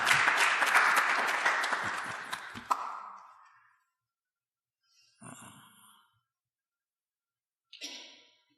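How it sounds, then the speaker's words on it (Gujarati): Applause from a seated audience at a spiritual discourse in Rajnagar, a dense burst of clapping that fades out after about three seconds, followed by silence and two brief faint rustling sounds. "દે તાળી."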